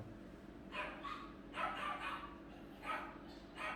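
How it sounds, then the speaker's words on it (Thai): A dog barks faintly in the distance, with several short bursts in irregular groups over a low background hum and no clear speech. "หมามันเห่านะครับ"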